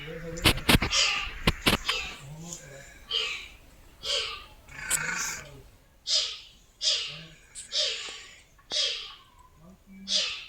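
A cat-like animal at the Tripura zoo calls in a regular series of short, breathy, snorting cries, about one every second and fairly close, with clicks and a few louder bursts at the start.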